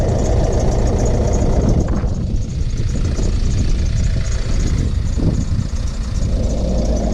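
A Ford Transit Connect van idles with a newly fitted exhaust, a steady low rumble that stays close and loud throughout without change in pace.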